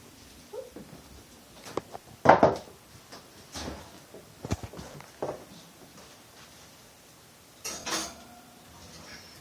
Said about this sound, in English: we are going to want to put this back in the oven for 25 to 30 minutes